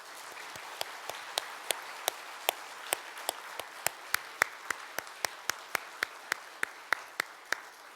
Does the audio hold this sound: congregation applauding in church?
yes